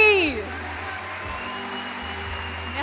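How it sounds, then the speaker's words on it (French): Audience applause at a jury ceremony: after a brief voice at the start, a steady, moderately loud wash of clapping fills the room, with no talk over it. "Et encore vos applaudissements pour Catherine Deneuve"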